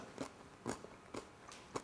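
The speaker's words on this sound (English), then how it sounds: "You hear the crunch?" Biting into a hot jalapeño popper produces four or five crisp, quiet crunches in an even rhythm, heard close up with no talking.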